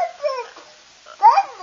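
A puppy whimpers and yips in short high-pitched bursts, close and fairly loud, with a brief quiet gap before a stronger whine near the end.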